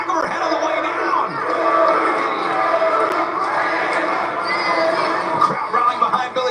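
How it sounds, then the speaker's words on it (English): A packed, sold-out wrestling crowd at the Hammerstein Ballroom roars and cheers continuously, a dense wash of shouting and whooping voices that swells and holds loud throughout. "The crowd rallying behind Billy Starks now here at the sold-out Hammerstein Ballroom"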